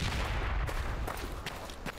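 Gunfire in Project Reality 2, with several sharp shots cracking in an irregular burst over a loud, rumbling battlefield background with no talking.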